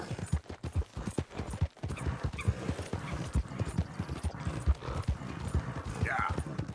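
A horse's hooves clip-clop steadily at a walking pace in Red Dead Redemption II, close and continuous, with game ambience and a voice talking over them.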